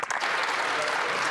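Sustained applause from members in the Canadian House of Commons after a tribute to women's sports athletes, a dense, even wash of clapping throughout.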